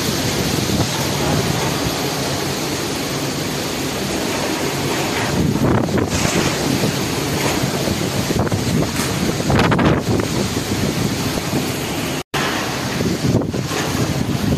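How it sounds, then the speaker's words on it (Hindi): Strong storm wind in Da Nang, Vietnam roars continuously and loud, with heavy buffeting against the microphone and a brief dropout near the end, no talking. "Look at the speed of the wind."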